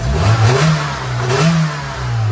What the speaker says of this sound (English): You rev them from the pedal